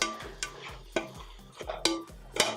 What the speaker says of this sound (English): we're just going to keep cutting this with our spatula